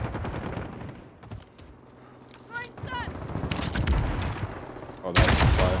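Gunfire from two opposing teams fighting in the Call of Duty Warzone video game, with bursts and single shots at varying distances, a loud close burst near the end, under intermittent talk.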